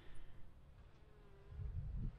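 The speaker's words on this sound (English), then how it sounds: "I tapped on it. There are bees there." Honeybees in an overwintered hive in Pennsylvania winter give a faint, low, steady buzz after the hive is tapped, rising slightly toward the end, with no talking.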